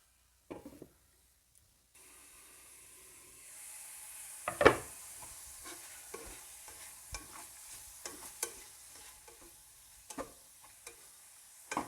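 Lamb browns in a pan for a Moroccan-style dish, a quiet, steady sizzle with repeated light knocks and scrapes of a spoon stirring the meat, close and low in level.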